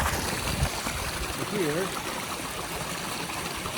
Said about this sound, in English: Got a little creek going that way